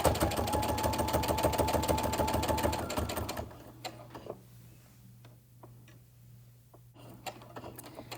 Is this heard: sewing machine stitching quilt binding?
yes